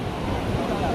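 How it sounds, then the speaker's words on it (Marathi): High-tide surf at Diveagar beach in Konkan makes a brief, unbroken wash of breaking waves, with wind rumble on the microphone underneath, loud and even from start to end. "समुद्र तुम्ही पाहू शकता, भरती आली आहे, डेंजर भरती आली आहे"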